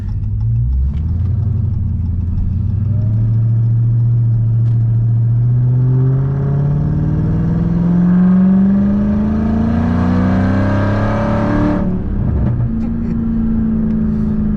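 A Dodge Charger Hellcat V8 revving hard from inside the car, a loud steady engine roar climbing in pitch over several seconds toward about 6,000 rpm before dropping back, with no talking.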